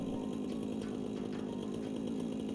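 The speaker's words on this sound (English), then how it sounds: "Come on, chainsaw. Can you help me out here?" A chainsaw whines steadily as it cuts in the video game Satisfactory, a continuous buzzing drone with no pauses and no voices.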